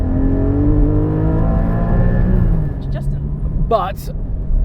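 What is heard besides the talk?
Porsche Cayman GT4 engine revving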